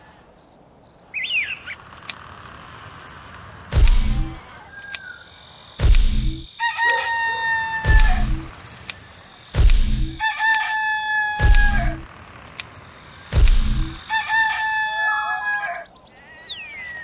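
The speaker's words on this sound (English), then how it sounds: "Roosters always crow when the sun comes up." Repeated rooster crows from the Norse land of the Black & White 2 god game, five loud calls spaced about two seconds apart, each opening with a heavy thump, over a steady bed of insect chirping and twittering birds.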